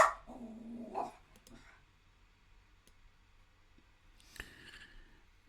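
A puppy lets out a short burst of barks and yips up close, then goes quiet, with a faint yelp or two returning near the end.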